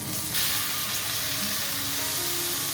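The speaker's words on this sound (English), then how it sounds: "you can add the halibut and cook it gently for about 2 to 3 minutes per side" Halibut fillets searing in shimmering hot oil in a pan, giving a steady, close, broadband sizzle and crackle that holds evenly throughout with no talking.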